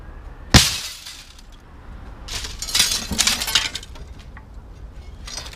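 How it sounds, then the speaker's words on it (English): Ordinary non-safety residential window glass breaks into big shards, opening with one sharp loud crack, then a scatter of clinking and tinkling pieces falling nearby over several seconds. "Big shards of glass coming straight off"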